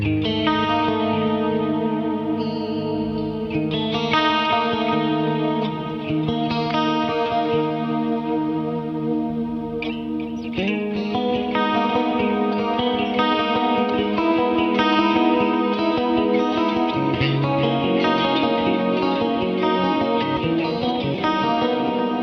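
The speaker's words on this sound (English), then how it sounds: "It's a Fender. Let me scroll down. Bandmaster Reverb. And I love this profile. Let me just do a quick little tour of this amp." An electric guitar is played through a Fender Bandmaster Reverb amp profile with effects, ringing out with sustained chords and notes washed in chorus, echo and reverb, loud and continuous with no talking.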